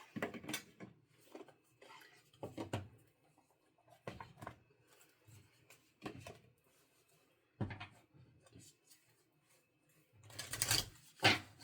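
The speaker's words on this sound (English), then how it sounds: "I usually do my 3 shuffles." Repeated bursts of tarot cards being shuffled, riffling and flicking in several separate rounds with brief pauses between, close and fairly quiet.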